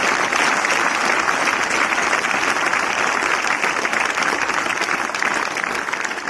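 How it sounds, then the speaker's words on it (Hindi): Sustained, loud applause from a full legislative assembly, dense steady clapping that fills the hall for several seconds without a break. "तालियां बजाए"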